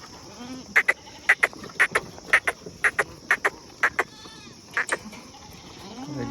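Usmanabadi goats at a goat farm sale in Jintur, Parbhani district, bleating in a quick series of about a dozen short, sharp calls, fairly close, over a low background hum.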